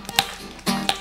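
Someone slaps a rhythm on his own face, producing four quick, close, sharp smacks in two pairs, dry and percussive against a quiet background.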